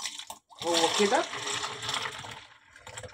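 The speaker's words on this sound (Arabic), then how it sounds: "وهصفيه في مصفى سلك، مش هصفيه في شاشه ولا حاجه" Licorice juice poured through a wire mesh strainer gives a steady liquid splash and trickle lasting a couple of seconds, close by, under a voice speaking Arabic.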